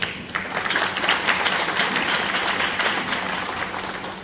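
A crowd at an outdoor public event applauds loudly and steadily, a dense wash of clapping that keeps going at an even level from start to finish.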